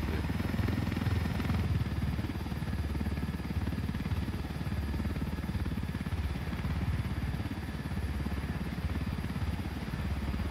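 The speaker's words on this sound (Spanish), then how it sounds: "Y hay un montón de helicópteros." Helicopters in the video game Ghost Recon Wildlands give a steady, dense rotor and engine drone that runs unbroken at even loudness throughout.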